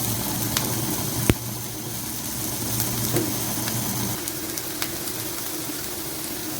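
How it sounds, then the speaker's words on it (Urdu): Onions frying lightly in oil in a pan over a medium flame, a steady soft sizzle and hiss running throughout with a low hum beneath and a couple of small clicks. "ایک پین لے کے اس میں آئل ڈالیں گے، پیاز ڈالیں گے فرائی کرنے کے لیے"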